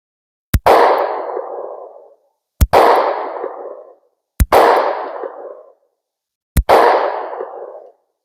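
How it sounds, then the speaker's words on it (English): Four SCCY pistol shots fired at a white steel plate from 20 yards, each a sharp loud crack followed by a long rolling echo, evenly spaced about two seconds apart with no talk. "we're going to take the same 20-yard shot with the sccy. Still aiming for that white plate"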